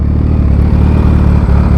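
A Kawasaki Ninja H2 supercharged motorcycle engine idling close by, a steady, loud low rumble with a dense, even throb and faint mechanical clatter, no voices over it.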